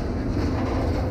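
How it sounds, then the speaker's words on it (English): A train rolls along a rail line in LaGrange, a steady low rumble with faint wheel clatter, close and continuous, with no voices over it. "trains are bustling"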